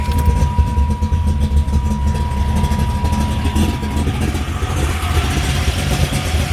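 A 1991 Camaro Z28 with a 383 stroker engine and 5-speed runs steadily nearby, a deep, dense, lumpy rumble with a little background voice underneath.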